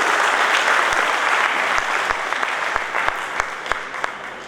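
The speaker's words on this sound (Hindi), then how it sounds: "निश्चित रूप से एक बार जोरदार तालियों के साथ दासपा साहब का स्वागत करिए" Applause from an audience welcoming a guest at an organisation's division meeting in Delhi: steady, dense clapping with a few sharper individual claps standing out, fading slightly toward the end.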